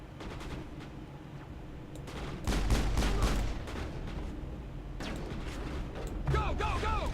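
Gunfire in the video game Mass Effect, a run of rapid rifle shots and bursts during a firefight, loud and close, with someone talking under the shooting.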